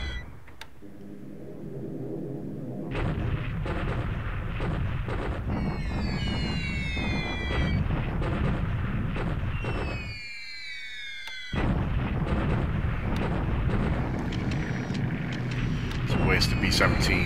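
Bombing explosions in the War in the Pacific strategy game, continuous rumbling blasts with whistling tones sweeping through, broken by one short lull before the rumble resumes.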